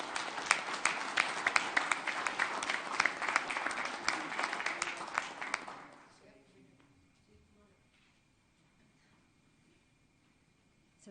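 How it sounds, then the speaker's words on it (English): Audience applause at an Amarillo city council meeting, a loud burst of clapping that carries on for several seconds, then falls away into near quiet. "You guys give a big round of applause to the group."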